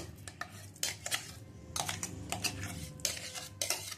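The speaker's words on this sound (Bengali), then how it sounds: "এবারে এই বাটির মধ্যে চিড়ের পেস্টটা ঢেলে নেব" Flattened rice (chira) paste poured into a bowl, with repeated light clinks and scrapes of a utensil against the bowl in short bursts, close and fairly loud, no talking.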